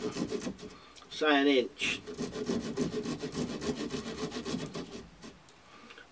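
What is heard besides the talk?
hand saw cutting wooden sticks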